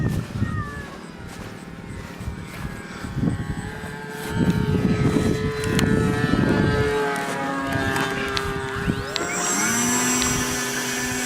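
Small RC model airplane engine at a grass flying field, a steady whining buzz with shifting pitch that swells louder mid-clip, with brief voices in the background.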